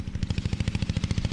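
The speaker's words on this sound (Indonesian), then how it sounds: "suara mesin dompeng atau traktor sawah guys" A dompeng engine on a rice field tractor chugs in a fast, even rhythm of sharp repeated pulses, loud and fairly close, running alone without voices.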